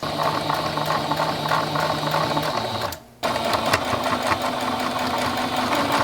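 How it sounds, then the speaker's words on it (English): A sewing machine stitching lace onto a dress runs loud and close with a fast, steady mechanical rattle, stopping briefly partway through before starting up again. "Now I'm just gonna attempt to sew it to the dress."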